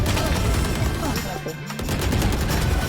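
Rapid gunfire bursts in a tactical shooter video game, dense and loud throughout with a brief lull midway, volleys overlapping continuously.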